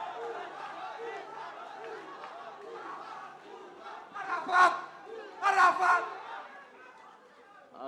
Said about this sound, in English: the crowd cheering up for a very prominent gym, Habib's MMA Academy fighter, Hussain